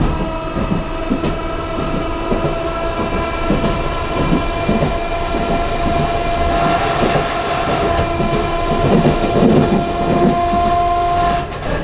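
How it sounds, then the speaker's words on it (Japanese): A streetcar-type tram races along a dedicated rail track in Toyama, producing a loud, continuous rumble and rhythmic wheel clatter that rises from the car floor and the motor below, with no voices. "電車は爆走しますので床からものすごい音がします"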